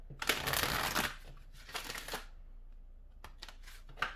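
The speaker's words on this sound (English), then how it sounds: "Let's get one more shuffle." Tarot cards being shuffled in a few rapid riffling bursts with short pauses between, close up and crisp, with no talking.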